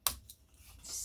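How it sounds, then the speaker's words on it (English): A single close, crisp snip of scissors cutting a small triangular wedge from scored cardstock, followed by faint paper rustling. "I'm just going to cut out a little triangle on the side there, so we get a little wedge shape"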